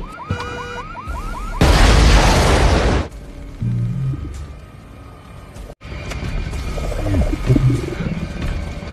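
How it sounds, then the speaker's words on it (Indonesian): A car explodes in a loud burst of noise, roaring for about a second before dropping to a low rumble, with smaller crashes and movement sounds afterward, from the film RoboCop. "mensimulasikan saat dirinya terkena ledakan dari mobilnya"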